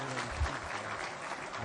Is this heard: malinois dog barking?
no